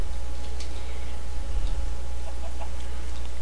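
Chickens in Minecraft, a few short clucks scattered over a steady low background hum, fairly quiet and without speech.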